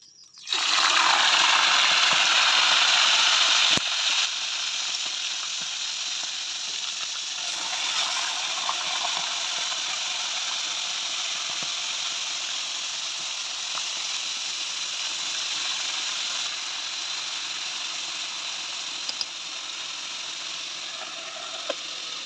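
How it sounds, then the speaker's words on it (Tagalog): Marinated chicken pieces dropped into hot oil, starting with a loud burst of sizzle that settles into a steady, dense crackling fry heard up close, with no talking. "kaya mag-prito-prito na"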